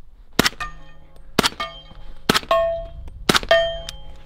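Four sharp 300 Blackout rifle shots ring out about one second apart, each a crisp crack followed by a lingering metallic ring, with no talk between them.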